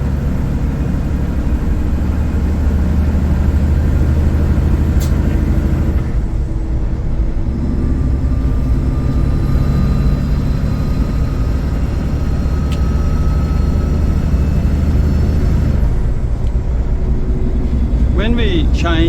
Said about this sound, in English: Now I'm going to use more throttle because we're in a higher gear.